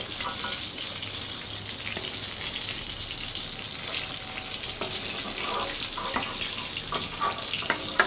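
Fish pieces fry gently in oil, giving a continuous hissing sizzle close by with light crackles and a few soft utensil taps, without speech.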